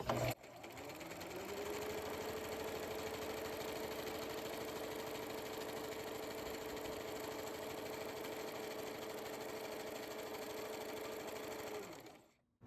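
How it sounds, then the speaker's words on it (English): A domestic sewing machine stitching a lettuce hem on stretch fabric, giving a continuous fast motor whir and rapid needle rattle for about twelve seconds, close and steady, and then stopping abruptly. "I'm going to start sewing here and pulling my fabric"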